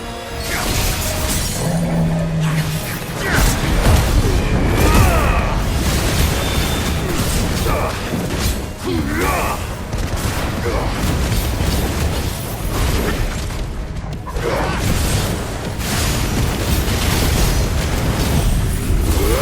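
Fire magic attacks in the action game Final Fantasy 16 unleash a dense, continuous barrage of booming blasts, crackling bursts and shattering impacts, loud and close, with game music and effects layered throughout.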